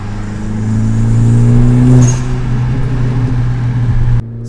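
A 10th-generation Honda Civic hatchback accelerates hard through its gears, the engine droning loud and close and rising steadily before easing off at a shift, then dropping away sharply near the end, with no talking.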